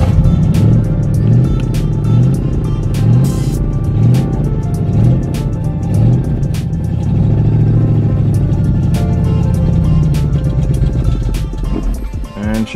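A carbureted 5.0 V8 swapped into a Mustang GT cranks with a rhythmic, chugging starter beat, catches, and settles into a loud, steady rumbling run before cutting out near the end.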